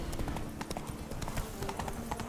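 Horse hooves clip-clop in a steady, busy rhythm while riding in The Witcher 3, close and fairly loud, with dense game ambience around them and no talk.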